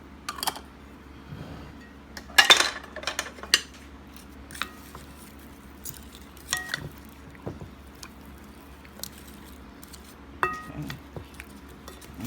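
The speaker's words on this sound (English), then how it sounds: "And then we're going to give this a mix." Seasoned chicken and potato pieces are tossed in a bowl, giving close, irregular bursts of clinks and wet scraping against the bowl, with quiet pauses between the strokes.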